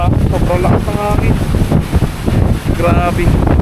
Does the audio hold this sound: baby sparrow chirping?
no